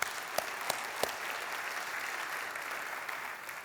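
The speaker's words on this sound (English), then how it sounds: "So let's give them all a round of applause." Audience members at a city State of the City address give a round of applause, heard as a soft, steady wash of clapping with a few sharper individual claps near the start.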